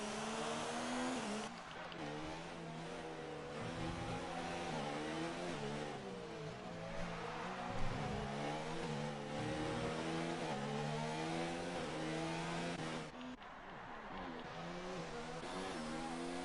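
Racing cars in an F1 video game, one chasing down a McLaren on the Singapore circuit: continuous high engine whine with rising and falling gear sweeps, loud and steady throughout.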